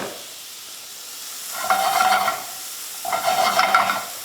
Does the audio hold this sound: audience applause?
no